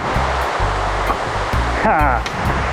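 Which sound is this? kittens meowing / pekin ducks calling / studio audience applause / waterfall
waterfall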